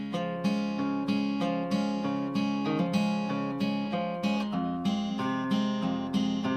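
Fingerpicked acoustic guitar playing the opening four bars of a song at full tempo, a steady flowing pattern of plucked notes and ringing chords, close and clear with no voices.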